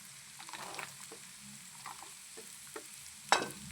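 Chopped onion sautéing with urad dal in a pan for upma, a soft sizzle under intermittent spoon scrapes and stirs, quiet and close, ending with a sharper clink against the pan.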